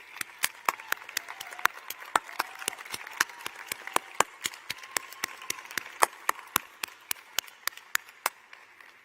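A medical school graduation audience claps for the graduates' families and guests: sparse, distinct individual claps in a loose steady patter, moderately near and modest in volume, with no voices over it.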